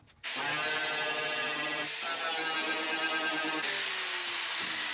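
A super wide sanding stick scrapes body filler across dented car panels, giving a loud, continuous abrasive rasp with a steady rhythmic texture and a brief break partway through.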